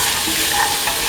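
Chickpeas tumble into a hot pan for a coconut milk and snake gourd dish, setting off a steady, loud sizzle of frying with stirring running evenly through the full short stretch.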